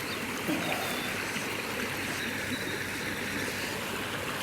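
River current flowing over rocks, a steady full rushing and gurgling of stream water close by, continuous and even throughout, with no talk.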